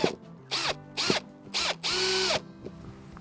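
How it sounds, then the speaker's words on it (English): Power drill boring pilot holes for gutter brackets on a flat roof, heard as four short bursts followed by one longer run, each motor whine rising and falling. It is close and loud, with quiet gaps between the bursts. "and then you can drill your pilot holes."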